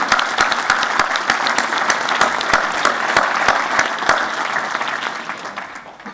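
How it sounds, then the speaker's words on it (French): Audience applause at a New Year's greetings ceremony in Barbentane, a full round of many people clapping with sharp individual claps standing out, steady for several seconds before thinning toward the end. "je te propose qu'on vous applaudisse"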